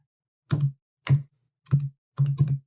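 Four separate keystrokes on a computer keyboard, the last a quick double tap, crisp and close in an otherwise silent room with no speech.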